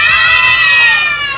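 A group of neighborhood children shout loudly together in one long, sustained high-pitched cry that swells and then fades slightly at the end, close and energetic, with no other talking.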